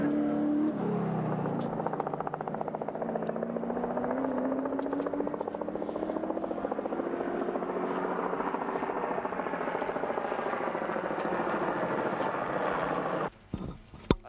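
Touring car engine roaring continuously at Bathurst as the driver throws it through corners, a dense harmonic drone with pitch rising and falling through gear changes, loud and steady before cutting off abruptly near the end.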